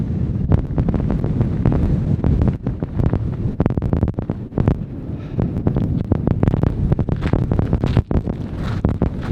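Strong wind buffeting the microphone in loud, irregular gusts and thumps during a road trip in Saudi Arabia, continuous throughout with no talking.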